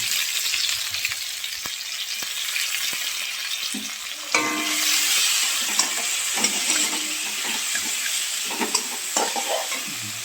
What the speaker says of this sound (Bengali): আমাদের আলু টমেটো ভাজা হয়ে গেছে